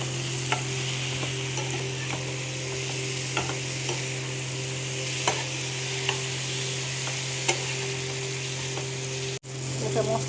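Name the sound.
spice paste with ginger and Kashmiri chilli being fried and stirred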